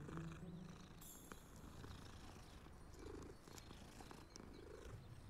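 A cat in the video game Hogwarts Legacy purrs faintly and steadily, a soft continuous rumbling pulse close by with a little quiet background noise and no speech.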